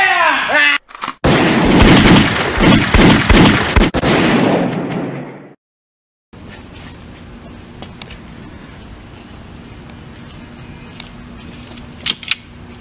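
Gunfire in an amateur short film: a loud, dense stretch of rapid shots and bangs lasting several seconds, then a sudden drop to silence and a steady background hum with faint clicks.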